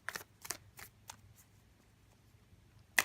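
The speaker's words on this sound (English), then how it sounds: "let's go on and get the cards shuffled here for you" Tarot cards are shuffled close by in a quiet room, giving a handful of soft, crisp snaps spaced about a third of a second apart, then a pause and one sharper slap.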